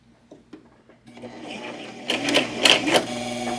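A sewing machine stitches a small doll dress for a Calico Critters / Sylvanian Families figure, starting as soft intermittent taps and swelling into a steady, louder mechanical whir for the last second and a half.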